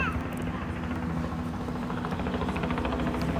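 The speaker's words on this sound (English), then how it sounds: "Yes, it's a news helicopter." A news helicopter flies overhead during a live outdoor search, its rotor chop a loud, steady pulsing drone that fills the whole clip.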